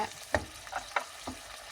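Broccoli and carrot stir-fried in a pan, a few scattered scrapes and stirring taps over a faint sizzle, quiet and close with no talk.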